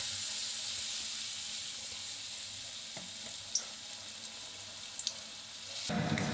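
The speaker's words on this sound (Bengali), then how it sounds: "আর এই যে বেগুনটাকে ব্যাটারে চুবিয়ে নিয়ে তেলের মধ্যে ছেড়ে দিচ্ছি।" Eggplant slices dipped in batter crackle and sizzle steadily in hot oil, a constant frying hiss with a few small pops and a louder surge of bubbling at the end.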